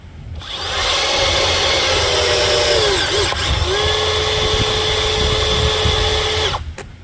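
A Makita BV-17 tool fitted with a 99BT M12 nose runs a steady, loud cutting whine for several seconds, its pitch dipping briefly mid-run before settling again and cutting off near the end.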